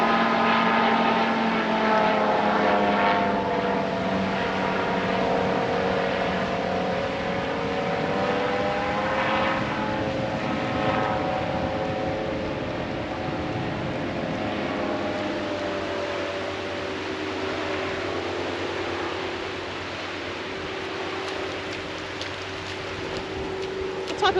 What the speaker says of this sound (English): What type of plane is that?